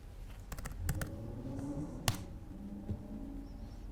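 A handful of keystrokes tapped out on a computer keyboard as a command is entered on a Linux machine, with scattered clicks and one sharper key strike against a low room hum.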